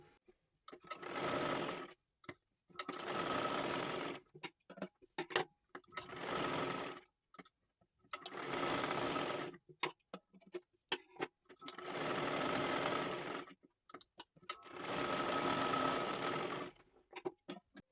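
Sewing machine stitching silky fabric along a marked line, running in six steady bursts of roughly two seconds each with short quiet pauses between, close and moderately loud, with no talking.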